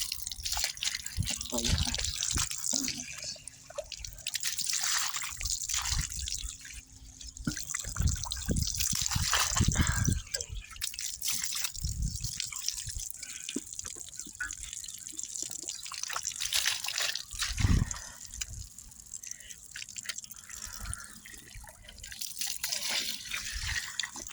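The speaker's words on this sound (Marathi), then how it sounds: "पहिलं मी सगळे पाय धुवून घेतो." Water splashes and drips steadily as feet are washed outdoors near an old temple on a farm, with broad running-water hiss throughout and someone talking over it at times.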